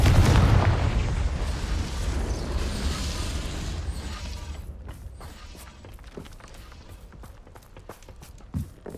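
A Confringo blasting spell goes off in Hogwarts Legacy as a loud, rumbling burst at the start, its roar tapering into crackling debris and scattered sharp impacts that fade over several seconds.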